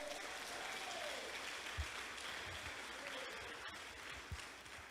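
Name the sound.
applause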